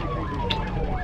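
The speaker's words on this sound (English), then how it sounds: "What's the ambulance?" An ambulance siren wails outside on a road, one steady, slowly falling tone over traffic rumble, moderately loud and continuous with brief voice sounds.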